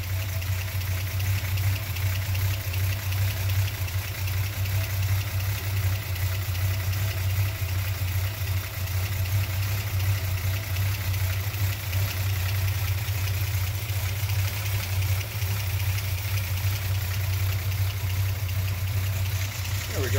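A Slant Six engine idles while warming up with its valve train exposed, a steady, close mechanical drone with a low throb and fine ticking that keeps an even rhythm the whole time.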